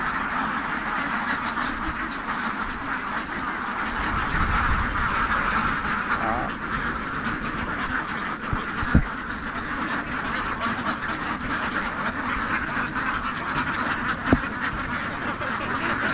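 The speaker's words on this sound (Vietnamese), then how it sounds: "Lần đầu tiên mình thấy cái số lượng vịt mà nó nhiều như vậy các bạn ha." A large flock of more than 2000 farmed ducks quacks continuously in a dense, moderately distant chorus, with brief speech in between.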